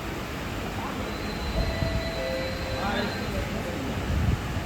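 Inside an underground metro subway station in Chennai, a train rumbles steadily with faint rising wheel squeal and tonal whine, a continuous moderately loud roar heard alongside background voices.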